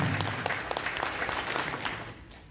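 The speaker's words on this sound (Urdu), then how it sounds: "میں ذرا چاہتا ہوں کہ ایک بھرپور قسم کا ان کو خراج تحسین پیش کرے تالیوں کی صورت میں" Applause from a village gathering at a retirement party for a government high school teacher, a steady crowd clapping throughout that thins slightly toward the end.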